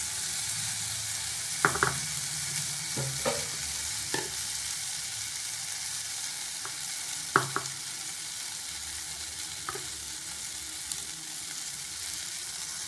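Okra sautéing in a pan for vendakkai pachadi, a steady close sizzle with occasional scraping stirs and light clicks of a spoon against the pan.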